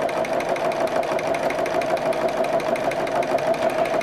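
A sewing machine runs at a slow, steady pace while thread painting a bag, producing a continuous even hum with a fast regular stitching patter, close and alone.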